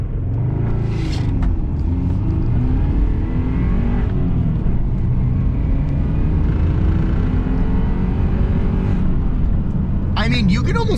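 A Subaru car doing a light launch, engine revving and rising in pitch with a rumbling roar, while people talk over it.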